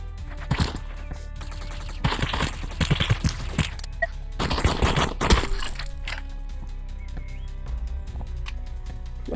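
Uzi fire in the VR game Animal Rivals comes in several rapid clattering bursts, fairly close and loud, separated by quieter gaps of background game sound.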